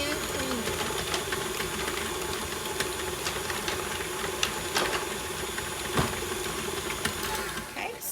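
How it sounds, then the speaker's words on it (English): Stand mixer creaming softened butter for chocolate chip cookie dough, a continuous whirring motor drone with faint clicks and bumps, close and steady for the whole stretch before trailing off at the very end. "So I'm gonna pause my mixer."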